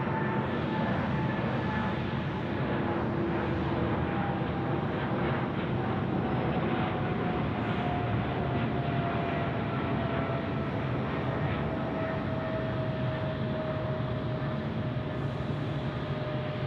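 A plane landing at night on runway 34 left at Sydney Airport, heard as a continuous loud jet roar with a slowly shifting engine whine, steady throughout with no voices.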